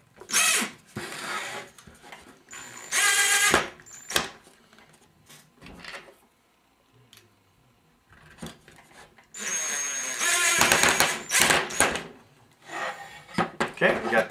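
A tripwire mount being screwed onto a tree with a drill, heard as bursts of whirring and ratcheting against wood that are separated by quieter handling, with some talking mixed in.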